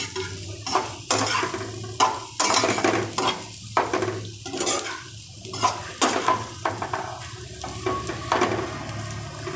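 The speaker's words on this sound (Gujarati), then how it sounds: "હવે એમાં આપણે મુઠિયા નાખી દઈશું ને હવે એને આવી રીતે હલાવી લઈશું" Banana and fenugreek muthiya frying in a pan, sizzling steadily while a utensil stirs them in repeated scraping, clattering strokes against the pan, close and alone without talk.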